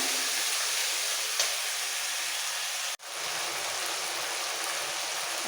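Garlic and green chili paste stir-fries in a pan for a rohu fish curry, giving an even, moderate hiss with one abrupt cut partway through and no voices.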